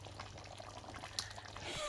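Sauce graine, a palm nut sauce, simmers in a pot with faint, soft bubbling and gurgling that runs steadily and very quietly throughout.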